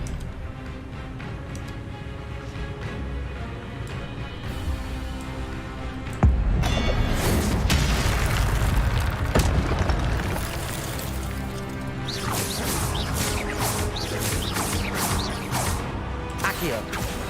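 Spell blasts from the Hogwarts Legacy video game: a dense, continuous layer of magical whooshes, crashes and booming impacts over a busy game score, swelling sharply midway and staying loud to the end.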